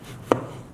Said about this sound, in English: So we're gonna thinly slice it.